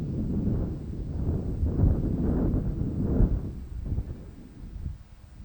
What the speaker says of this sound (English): We've got some time while these gusts move through